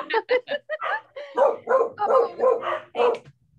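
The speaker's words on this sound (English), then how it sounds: "you'll stop barking for a cookie, huh?" A dog barks repeatedly up close, a rapid string of sharp yips and barks running together with no pauses.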